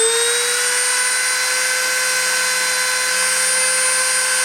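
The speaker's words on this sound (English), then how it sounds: "I'm going to start the spindle and start the deposition" A machine spindle runs at a constant pitch during a deposition process, producing a loud, steady whine with sustained tones and no variation.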